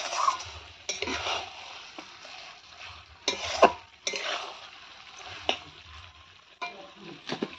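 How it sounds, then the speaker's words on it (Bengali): Goat meat cooks in a pan and is stirred, giving a steady frying sizzle. A spoon scrapes and clinks against the pan at irregular intervals, close and moderately loud, with no talking. "এখন এই যে মাংসই রান্না করছি"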